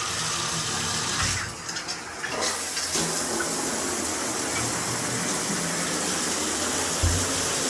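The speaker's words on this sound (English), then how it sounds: "Let's try out the shower." A hotel bathroom shower runs in a steady, loud hiss of spraying water, with a brief shift in the flow early on before it settles into an even rush.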